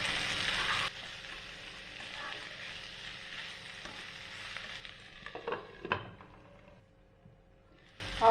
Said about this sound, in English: So for the chickong lei, I'll fry this for 1 minute.